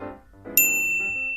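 A classroom bell gives a single bright ding that rings out and slowly decays, sounding clearly over a quiet room with no talking.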